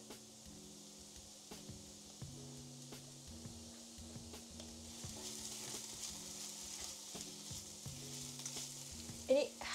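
Shallots and garlic fry in a pan with a soft, steady sizzle and occasional stirring, heard faintly under tonal background music.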